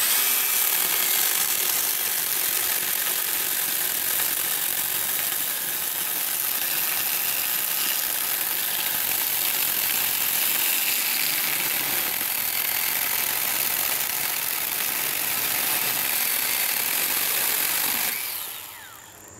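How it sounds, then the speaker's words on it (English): A steady, loud mechanical whine of a Milwaukee M12 FUEL cordless 6-inch pruning saw grinding through dried maple, running continuously for most of the clip before cutting off near the end. "having to let the saw go through in its own time"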